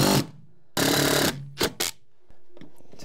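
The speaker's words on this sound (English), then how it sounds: "I'm just gonna throw 3 1/4 inch screws in there" Power driver sinking 3 1/4 inch screws into a plywood subfloor patch: a few loud, close bursts of motor whine with brief gaps between them, followed by quieter handling noise.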